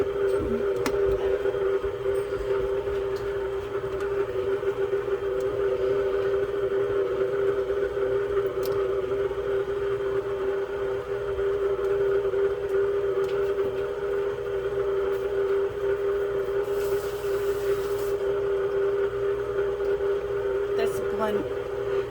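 A stand mixer with a folding attachment hums and whirs steadily while folding dog biscuit dough, a constant tonal drone lasting throughout.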